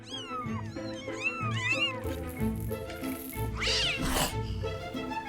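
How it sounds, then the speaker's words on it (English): Many cats at a large cat sanctuary meow over one another, a dense chorus of overlapping cries, some high and drawn-out, with a louder burst of yowling near the end. "Her sanctuary houses around 800 cats and 300 kittens"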